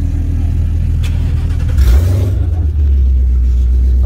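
A third-generation manual Ford Mustang 5.0 with headers, no catalytic converters and 93-octane fuel rumbles at close range, then briefly revs into a louder, rising growl before settling back to a heavy idle.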